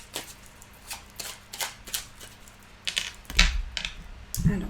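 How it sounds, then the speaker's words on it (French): A deck of oracle cards is shuffled by hand in a run of quick, crisp riffles and slaps, close and moderately loud, with a few heavier knocks near the end. "on va remélanger et on va tirer 4 cartes"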